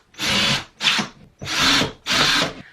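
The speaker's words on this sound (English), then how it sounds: "now I'm going to drill" A power drill whirs in four short bursts, close and loud, boring holes into drywall for wall anchors, with brief pauses between each run.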